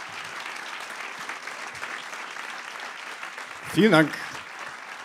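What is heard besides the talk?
audience applauding a comedian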